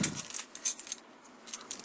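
A bunch of keys jingles in a few short bright shakes, close and fairly quiet, with brief pauses between the jangles and no talking.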